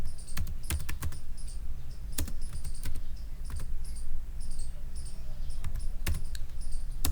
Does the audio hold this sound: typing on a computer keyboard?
yes